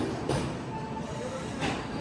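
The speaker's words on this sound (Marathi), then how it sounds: "सो गाईज फायनली आपली ट्रेन आलेली आहे." A train arriving at a station on a trip to Goa: a low rumble of rolling cars with faint rhythmic clatter and a thin squeal of wheels, moderately distant and steady, with no talking.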